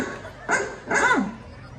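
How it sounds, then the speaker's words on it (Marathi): A dog gives two short barks or yips, a little distant, at an outdoor village gathering with faint background chatter. "ए यार कुत्रा आलं का बघ"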